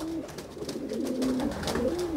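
Homing pigeons landing after an early-morning release give soft, rolling coos, close and continuous over light outdoor background noise, with no talking.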